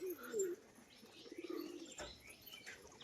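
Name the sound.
crested pigeons cooing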